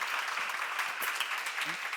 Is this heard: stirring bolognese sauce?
no